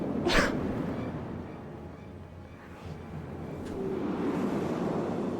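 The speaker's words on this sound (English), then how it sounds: "She's gonna sneeze." A female character in the Final Fantasy XIV game sneezes once, sharp and close, near the start of a game scene, with background game ambience and soft sounds continuing afterward.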